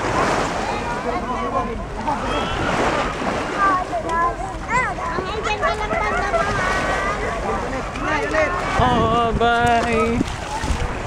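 A boat engine drones steadily off Boracay, with water splashing around the hull and wind noise, while people talk loudly over it for most of the stretch.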